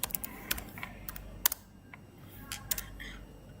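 Computer keyboard typing Linux commands, a sparse scatter of crisp key clicks with uneven gaps and a couple of sharper taps, close and quiet, with no talk.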